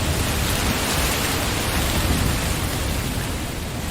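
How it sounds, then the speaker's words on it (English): A dense, steady wash of heavy rain, used as a sound effect in a Star Wars audiobook, pours evenly and loudly, a broadband hiss with no breaks. "The screen went down, and rain was suddenly smothering them."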